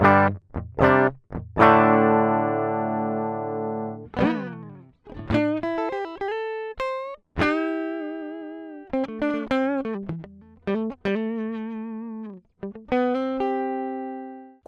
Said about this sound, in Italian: Questo è un suono DI, cioè è il suono della chitarra nudo e crudo